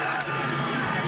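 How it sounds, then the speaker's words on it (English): Crowd at an AFLW football match between Carlton and Essendon roars as a broad, steady wash of distant voices, briefly heard with a commentator talking over it. "the crowd getting vocal here"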